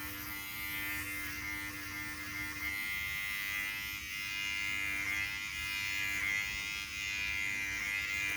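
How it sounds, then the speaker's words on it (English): Voyor ES500 electric shaver from a hair removal set, running steadily with a continuous high buzzing whir and faint hum, close and alone for the whole stretch. "maybe this is the one to use for regular shaving"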